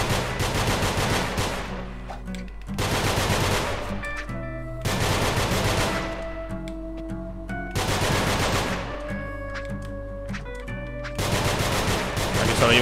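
Video game gunfire from Nongunz: rapid bursts of loud, heavy shots like a machine gun, firing in repeated volleys of about two seconds with brief pauses between them, over a steady low game soundtrack.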